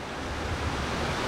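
The Neelum River in Kashmir flows below a mountain road, a broad steady rushing roar heard from a distance, with no talk.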